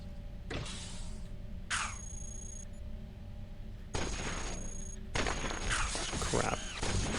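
Robot gunfire in the video game Cogmind, heard as a few sharp bursts of synthetic shots and zaps, some with ringing tones, set apart by quieter gaps over a steady background hum.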